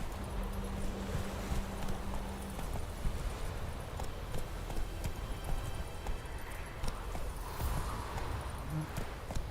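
Roach, the horse in The Witcher 3: Wild Hunt Next-Gen, gallops with a steady rapid clip-clop of hooves on the ground. It is continuous and fairly close, over a low ambient bed.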